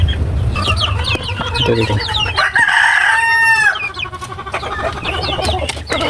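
Chickens on a rural hillside farm cluck steadily during feeding while a rooster lets out a loud crow midway, with a brief spoken word near the start.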